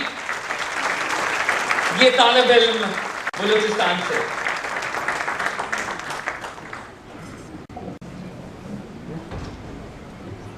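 Applause at a dinner for students from Balochistan, greeting an engineering student from Balochistan University of Information Technology; clapping rises under a man's amplified introduction, then fades into a quieter room.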